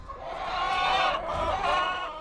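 Several young hens of a backyard flock cluck and murmur close by in a continuous, overlapping chorus of soft calls.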